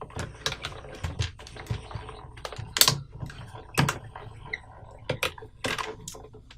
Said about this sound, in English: I'm going to die cut first, and then I'll show you how to come back and emboss